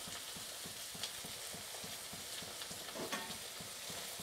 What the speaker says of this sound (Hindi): अब इसको क्योंकि लहसुन नीचे पक रहा है इसलिए हम अभी चलाएंगे नहीं इसको